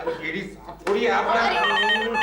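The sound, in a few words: telephone ringing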